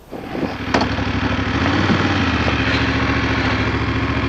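A motorcycle engine fires up and settles into a steady running rumble beside a waterfall trail, close and continuous without talk.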